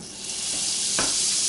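About four tablespoons of butter dropped into a hot pan for chicken au poivre, giving a bright, close sizzle that builds and holds, with a sharp spit of crackle midway.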